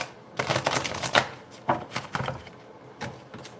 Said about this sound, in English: that'll be the final shuffle for this